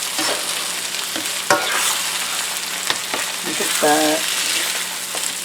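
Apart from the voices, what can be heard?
stirring eggs with stuffing in a frying pan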